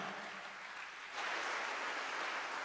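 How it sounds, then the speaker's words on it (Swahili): Church congregation applauding Jesus during a service, a soft wash of clapping that swells noticeably about a second in and continues steadily, heard at a distance and fairly faint. "Washindi wachache wampe Yesu makofi yanayoeleweka"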